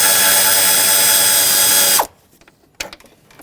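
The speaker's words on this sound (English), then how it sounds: "Put your socket in here, make sure it's seated well, and remove these bolts." A power socket tool runs in one continuous loud whine for about two seconds while removing T30 bolts from a fan assembly on a 2012-2020 Nissan Pathfinder, then stops abruptly, followed by a brief metallic clack.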